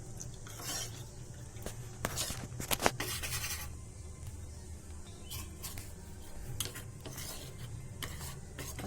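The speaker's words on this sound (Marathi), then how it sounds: "आता ही पावडर चांगली दुधात मिक्स झाली आणि ते दुधात टाकूया आपण" Custard powder is stirred into milk, with soft intermittent scraping and light clinks of a spoon against the vessel. A few sharper knocks stand out over a quiet background with no talk.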